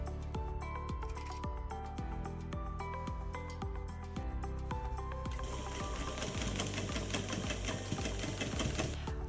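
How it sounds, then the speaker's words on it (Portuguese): A sewing machine stitches along the edge of black denim from ripped jeans, a close, steady mechanical thumping that speeds into a faster, denser whir partway through, with no talk. "E vamos passar uma costura bem nessa beiradinha."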